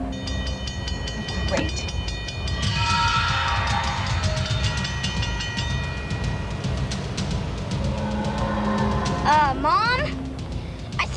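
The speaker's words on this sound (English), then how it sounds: "I think there's a train coming." A train approaches with a rumbling, clattering roll and a rising horn or whistle blast near the end, heard beneath people talking.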